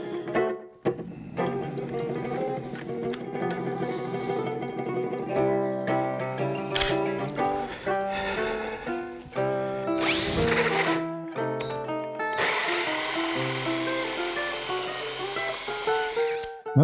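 A Harbor Freight drill bores a 2.5-inch hole with a hole saw, its motor whining and shifting pitch as it labors and bogs down, then stops and restarts with loud grinding near the end. No one speaks.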